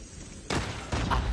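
Sniper gunfire in the shooter game GKS Elrician sounds as two sharp, loud shots about half a second apart, each with a brief lingering tail, with no talk.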